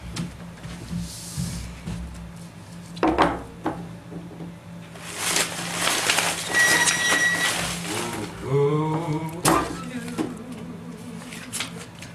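A raffle name drawn from a silver prize wheel at a live winter community show: a burst of rattling and clattering in the middle, with voices murmuring around it.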